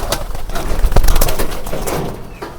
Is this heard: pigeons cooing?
yes